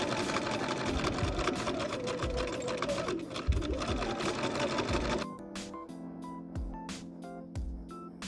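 A sewing machine stitches a jacket side seam along the sleeve and underarm in a fast, steady mechanical whir for about five seconds, then stops and leaves a few soft clicks and handling sounds.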